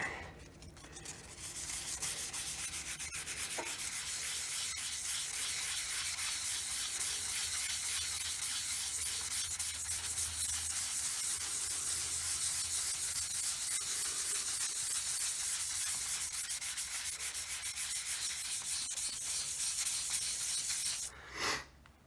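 Scratched plastic dash of a Honda Fourtrax ATV is hand sanded with 400 grit sandpaper, a close, continuous rhythmic rubbing that runs unbroken and then stops briefly near the end.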